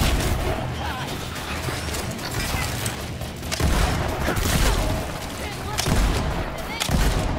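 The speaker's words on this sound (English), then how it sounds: "Let's use the shotgun too." Rapid gunfire in a first-person shooter video game, with repeated shotgun blasts and booming shots packed close together in a loud, continuous barrage and only brief gaps between volleys.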